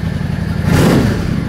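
A Yamaha V Star 650 motorcycle engine idles up close, then gets one quick throttle pop that rises briefly and settles back.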